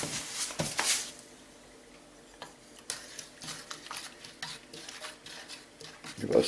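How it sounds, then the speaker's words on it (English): Spoon stirring sugar into a hot dandelion and citrus honey mixture in a pot, faint scattered clinks and scrapes with soft rustling, a few louder knocks at the start. "give us a quick stir"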